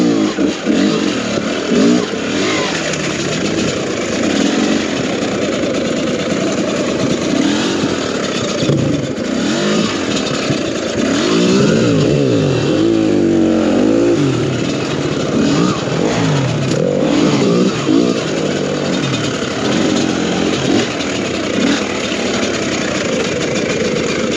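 A 2022 TM EN300 FI motorcycle engine runs close by for a long stretch. It alternates between a rough idle and rising, falling revs with wavering throttle blips, and no one speaks.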